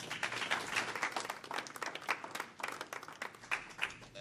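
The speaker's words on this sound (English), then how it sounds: "give the mayor another round of applause" Moderate audience applause for a mayor at a public program announcement, a crowd of scattered claps heard at some distance, fairly faint and uneven in rhythm throughout.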